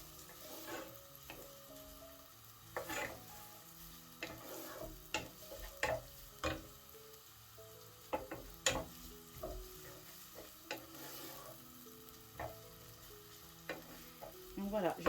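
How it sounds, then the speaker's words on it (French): Shrimp sautéing in a pan for a tajine, a steady soft sizzle broken by frequent scraping and clinking stir strokes, close and continuous with no speech. "Et on va faire revenir tranquillement."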